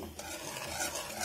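A spoon stirs dissolved powdered milk into a strawberry pudding mixture in a pot, giving a brief, soft scraping swirl with a faint sizzle beneath, and no voices.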